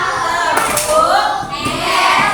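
Children clap in a classroom number game, a few sharp claps landing among a murmur of young voices and room noise.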